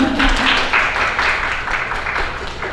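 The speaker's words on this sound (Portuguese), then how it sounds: "Palmas pra Vicky." An audience applauds for Vicky at a hip hop pedagogy talk, with a dense, steady wash of many hands clapping that holds through the whole stretch, close and fairly loud.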